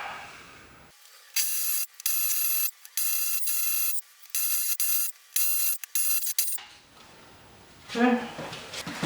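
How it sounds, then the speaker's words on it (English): Repeated short bursts of a high-pitched power drill whirring as it drills a hole in a wall, starting and stopping several times, then a brief rustle at the end. "Drill this guy out."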